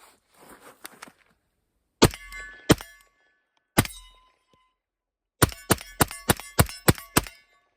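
A 300 Blackout rifle fires supersonic rounds outdoors: a pair of sharp loud cracks, a single shot, then a rapid string of about seven shots, with silence between groups and faint earlier pops.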